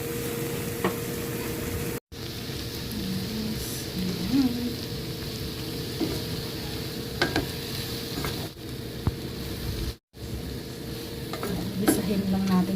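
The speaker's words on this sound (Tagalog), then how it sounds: "Gisahin lang natin siya bago natin siya takpan." Squid seasoned with black pepper and salt sautés in a pan, giving a continuous dense sizzle with intermittent stirring scrapes and spoon taps, close and steady for several seconds with two brief breaks and no speech.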